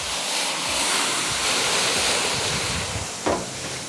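Water poured onto a Camp Chef Gridiron griddle heated to about 350 degrees sets off a steady, loud hiss of steam and sizzle that holds throughout, with a brief flare near the end.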